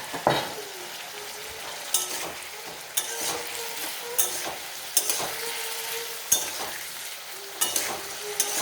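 Ground cumin and coriander sizzle and fry in a pan while a spoon stirs them, a steady frying hiss broken by regular scraping strokes and clinks of utensil against metal about once a second.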